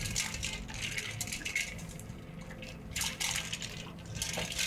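Homemade butter being rinsed in cold water: continuous sloshing and splashing of water, pressed and stirred by hand, with a few drips and wet squelches, close and fairly loud, no speech.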